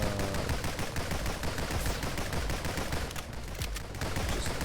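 Video game assault rifle fire rattles in a loud, dense, continuous automatic stream, rapid shots blurring together for several seconds with no voices over it.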